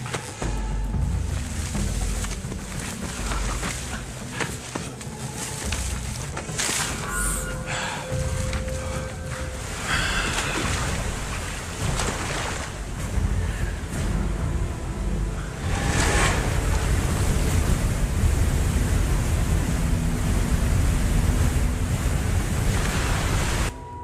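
Loud, continuous rushing water from a steep waterfall roars steadily throughout, a dense broadband wash with a few brief irregular sounds mixed in, growing slightly stronger toward the end.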